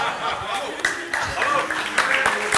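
Conference audience at DevFest Toulouse 2019 applauding, a brisk patter of many hands clapping in a hall, mixed with scattered chuckles and laughter throughout.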